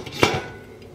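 A metal lid is set onto a pot holding a flan mold on the stovetop, one close clanking impact with a brief ringing decay.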